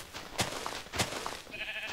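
Short sheep bleats from Minecraft, two or three quick nasal calls close by, followed by a brief higher tonal game sound.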